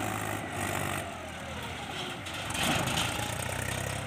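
A Mahindra 275 DI tractor with a trolley, stuck in mud, keeps its engine running close by with a heavy, continuous rumble that swells louder toward the end.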